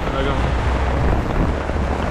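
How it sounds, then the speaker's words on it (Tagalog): Strong typhoon wind roars in a continuous, loud buffeting rush against the microphone, with someone speaking briefly over the gusts. "Lakas pa rin po ng hangin, no?"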